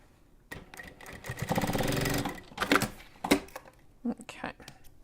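A sewing machine runs a basting seam on a handmade bag in one sustained burst of rapid stitching, followed by brief handling noises and soft talk.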